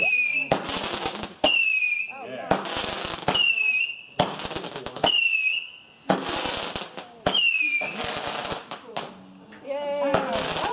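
Family backyard fireworks fire in rapid bursts, whistling rockets and crackling explosions repeating every second or two, fairly close, with people reacting and talking between bursts.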